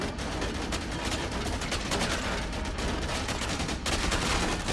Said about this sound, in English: I'm gonna take this full Merc assault rifle.